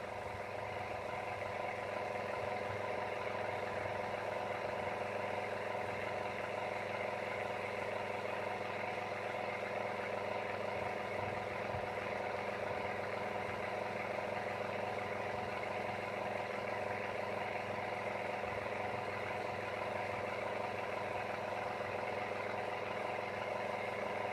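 An engine runs steadily at around 6,000 RPM during a long endurance run test, a continuous droning hum with stable pitch and no breaks, loud and unbroken for the whole stretch.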